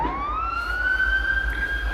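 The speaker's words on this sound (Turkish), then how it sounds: "Bir itfaiye aracı da ve bir polis aracı da yangın mahalline geliyor." Rising siren wail from an emergency vehicle, fire engine and police car arriving at a sponge factory fire in Konya, steady and fairly loud over a low traffic rumble, with no talk.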